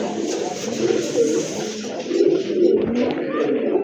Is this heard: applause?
no